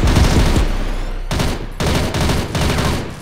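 Automatic rifle fire from the online shooter CrossFire during a bomb-site round, loud sustained bursts broken by short pauses, no talking.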